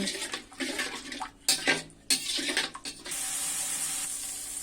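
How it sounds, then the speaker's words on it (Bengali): Water is splashed into spices frying in oil in a pan, giving bursts of splashing and hissing steam that settle into a steady sizzle, close and fairly loud. "এবার সামান্য পরিমাণে জল দিয়ে দিব"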